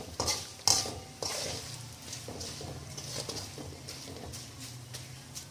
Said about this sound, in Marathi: हळदीला शिजू द्यायचं तेलामध्ये